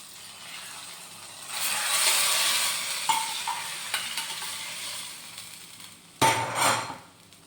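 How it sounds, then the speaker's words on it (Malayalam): Onion tempering sizzling in a pan for a Thrissur-style beef and plantain dish: a soft hiss swells, with a few metallic taps of a utensil, then a sudden loud sizzle burst near the end as ingredients hit the hot oil. "ഇതാണ് കേട്ടോ അവസാനം ഉള്ളി താളിച്ച്."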